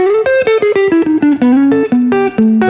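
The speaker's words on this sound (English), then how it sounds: "The last little final tip I like to use is using sixths going down the neck." Electric guitar with effects and slight distortion plays sixths descending down the neck in a bluesy phrase, with quick double-stop notes that step lower in pitch, loud and close with no talking.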